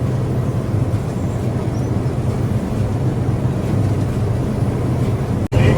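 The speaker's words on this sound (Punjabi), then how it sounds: "ਲਾਣੇਦਾਰ ਟਰੈਕਟਰ ਲਾ ਰਿਹਾ" A tractor runs with a loaded trolley in farm country, giving a steady, low engine rumble that carries on evenly. A sharp click and brief dip come just before the end.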